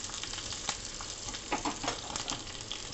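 Whole green chillies, cut into long strips, sizzle softly in a light tadka of hot oil for Sindhi ghiya chana dal, a quiet crackling fry with occasional sharper pops and no voices.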